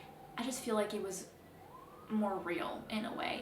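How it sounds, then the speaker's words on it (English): Emergency vehicle sirens pass outside, a faint rising and falling wail in the background beneath a person talking close to the microphone. "Sorry about the sirens, they're always around."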